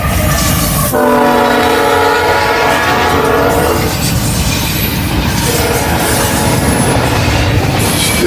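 Norfolk Southern freight train NS29F rolls past at Walton, its horn blaring loud and sustained for several seconds over the steady roar and rattle of rail cars and wheels.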